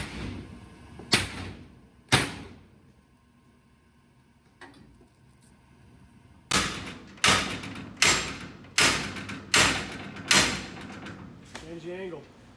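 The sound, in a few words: firefighter recruits forcing entry through a door with tools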